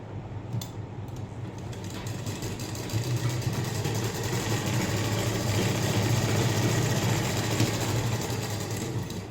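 A sewing machine stitches the side seam of a blouse, a continuous close mechanical whir with a low motor hum, running steadily and building slightly in the middle, no talking.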